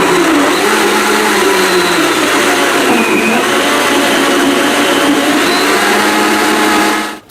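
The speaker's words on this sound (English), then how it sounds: "Now blend this for 30 to 45 seconds on high." Blender running on high speed, whirring a smoothie of fruit and Malibu rum, a steady loud motor drone with broadband churning held for about seven seconds before cutting off.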